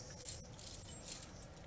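A bunch of keys jangles near the start of a fire alarm pull station test, a Cat 60 key among them, with light metallic rattling bursts scattered across a short quiet stretch.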